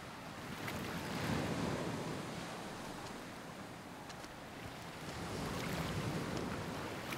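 Ocean waves at the seaside at dusk: continuous surf washing in broad swells that rise and fall, mixed with steady wind rumble and no voices.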